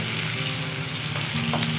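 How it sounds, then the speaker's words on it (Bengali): Onion sizzles and fries in hot oil with dried red chillies while cooking sajne greens, a steady dense crackle with light stirring scrapes near the end, close and continuous. "পেঁয়াজটা এখানে আমি একটু লাল করে ভেজে নেব"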